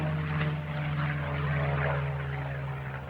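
A propeller racing airplane engine drones steadily and loudly, a continuous buzzing roar that holds at one pitch for the whole stretch with no voices over it.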